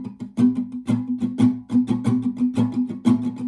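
Close acoustic guitar strumming through a rhythmic passage of a song, steady percussive strokes with bright chord accents, alone and fairly loud.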